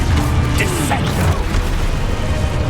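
Dissecto spell cast in the video game Hogwarts Legacy: a dense, busy burst of magical combat effects with booming and mechanical textures, continuous and loud, with voices mixed in.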